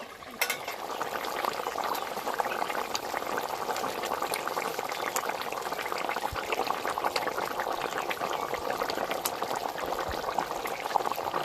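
Fish curry with potatoes bubbles steadily in a covered pot, giving an even, continuous simmering hiss with faint scattered pops and ticks and no talking.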